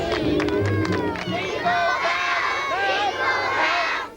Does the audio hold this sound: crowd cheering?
yes